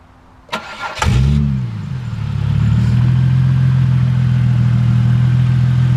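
A car engine with its exhaust partly removed cranks briefly, catches with a loud burst, then settles into a steady, throaty idle that grows slightly louder and holds.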